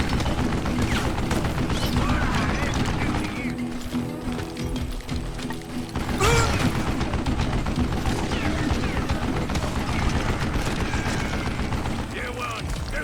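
A mounted gun fires dense, continuous rattling volleys in the cowboy shooter game Call of Juarez: Gunslinger, loud and unbroken, layered with a booming impact and busy game noise, with a voice talking over it.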